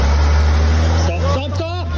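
Engine of a 4x4 on a slope holds a loud low steady rumble close by as it is given gas, with a person speaking briefly over it near the end.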